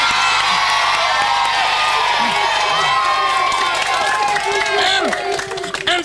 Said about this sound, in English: A round of applause for the fabulous Chris boy!